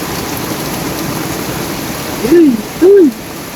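A heavy downpour of rain keeps up a steady hiss, and near the end two short, hoot-like tonal calls rise and fall over it in quick succession.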